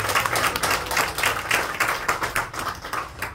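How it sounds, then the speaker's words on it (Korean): A church audience at a Korean emergency joint prayer meeting claps warmly as a pastor is welcomed to the stage, a dense stretch of steady applause that swells and thins slightly over a few seconds with no talk. "우리 뜨거운 박수로 찬양합니다."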